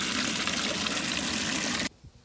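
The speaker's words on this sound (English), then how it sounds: "you're gonna fill a big tub up of water so we can start the hydro dipping process" Water pours into a big tub being filled for hydro dipping, a loud steady gushing rush that cuts off abruptly near the end, leaving quiet.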